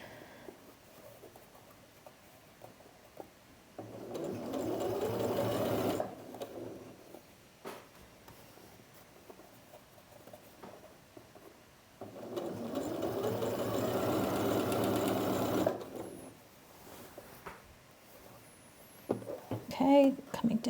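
A sewing machine stitching a shirt sleeve seam runs in two steady whirring bursts of a few seconds each, separated by pauses, close and moderately loud, with a person speaking softly between runs.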